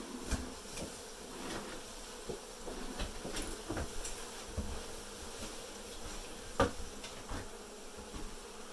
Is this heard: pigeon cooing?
no